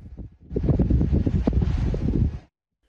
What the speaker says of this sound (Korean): 현장에는 쉴 새 없이 눈이 내리고 바람 소리도 거셉니다.